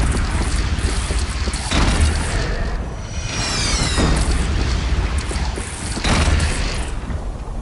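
Cannon fire and heavy explosions rumble through a battle in Horizon Zero Dawn, with repeated deep booms and blasts, one with a whistling streak, loud and close over continuous roaring combat noise.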